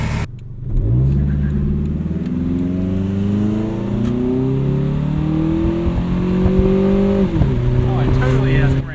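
A Toyota Camry engine with a carbon fiber intake revs up loudly and steadily, its pitch climbing, then drops back and settles into a lower roar near the end.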